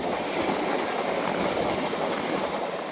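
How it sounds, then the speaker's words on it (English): A train rumbles steadily past at close range beside a seawall, a broad continuous roar of rolling wheels with faint squealing high above. "He snuck up on me. Naughty train."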